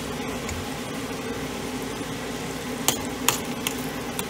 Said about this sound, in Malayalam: എണ്ണ നല്ലതായിട്ടൊന്ന് തിളച്ച ശേഷം മറ്റ് ബാക്കിയുള്ള ഉള്ളി പെട്ടെന്ന് അതിൽ വഴറ്റിയെടുക്കുക